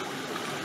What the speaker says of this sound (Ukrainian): Котик вирішив, що басейн – це велика миска з водою. І попив водичку.